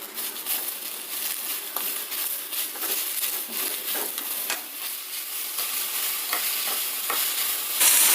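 Steady frying sizzle of mint leaves sautéing in a pan with scraping stirs at irregular intervals, close and moderately loud, with no voices.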